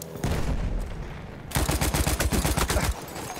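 Machine gun fire in Battlefield 1 on the Soissons map, German Empire side: sustained loud automatic bursts, a brief dip, then a heavier rapid rattle of close shots, with no voices.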